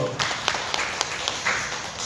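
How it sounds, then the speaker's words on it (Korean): A church congregation gives a short round of applause together, scattered claps over a steady roomy background with some voices underneath. "다 같이 박수"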